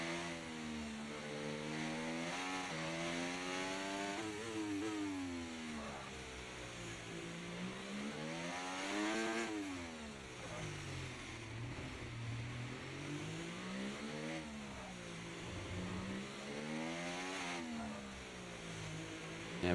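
A Formula 1 car in an F1 racing game, driven around to warm its tyres: a high engine whine that rises and falls steadily through repeated gear changes, continuous and fairly quiet, with no talk.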